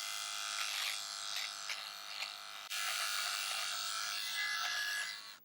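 A Soocas 4-in-1 cordless USB rechargeable electric shaver trims sideburns with a steady buzzing hum and scratchy rasp against the hair, close up. It breaks off for a moment halfway, resumes, then cuts out at the end.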